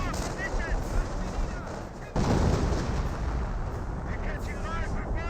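Artillery barrage in the World War II strategy game Company of Heroes, with dense rumbling blasts and gunfire rolling continuously, a heavy impact near the middle, and a commentator's voice faintly mixed in.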